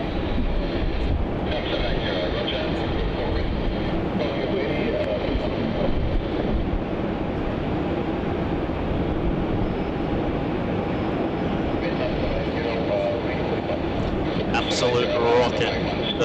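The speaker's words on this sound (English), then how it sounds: "We do have a Qantas 717 takeoff though on runway 27 off to Canberra." A Qantas Boeing 717 jet taking off on runway 27 at Melbourne Airport produces a dense, loud, sustained engine roar and rumble that holds steady throughout, with a person talking over it.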